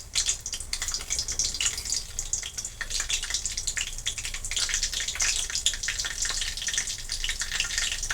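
Cumin seeds crackle and sizzle in hot oil in a kadhai, a bright continuous spitting hiss with scattered sharp pops, fairly close and steady, no voices.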